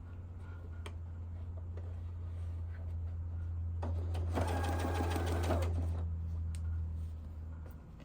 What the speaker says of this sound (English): I like to come to the end, do a couple back stitches